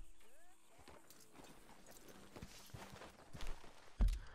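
Horse hooves clop on the ground in Red Dead Redemption 2, soft uneven steps beneath game ambience and someone talking, with a brief louder thud near the end.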